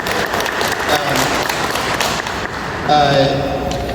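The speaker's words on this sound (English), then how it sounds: "Can you please applaud for both of them?" Audience applause at an Asian American heritage month award ceremony in Manhattan, a steady, fairly loud spread of clapping filling the whole stretch, with a brief voice heard near the end.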